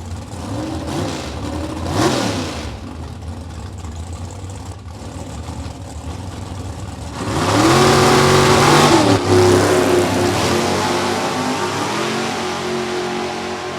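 A 1970 third-generation Chevrolet Nova drag car with a small engine at an NHRA drag race at Beech Bend Raceway, its engine revving loudly and building into a sustained roar, with crowd and track noise around it.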